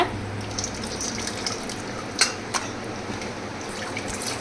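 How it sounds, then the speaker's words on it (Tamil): Running water splashes steadily over raw chicken being rinsed in a sink, with a few sharp clinks and drips standing out near the middle. "இந்த மாதிரி நல்லா அலசி கழுவி எடுத்துக்கோங்க."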